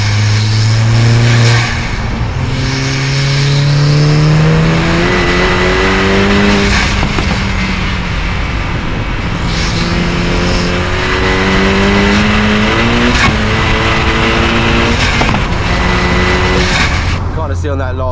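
A 450 hp Volkswagen Caddy with a swapped 2.0 TFSI engine accelerates hard on a street, revving up through several gears with loud, rising engine pitch and brief shift breaks, heard from inside the cabin.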